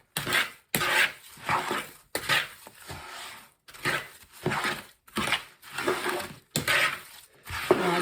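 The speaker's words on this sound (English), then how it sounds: "Stir that around." Pie crust mixture stirred in a bowl, giving repeated bursts of scraping and clinking about once a second, close and fairly loud, with short pauses between strokes.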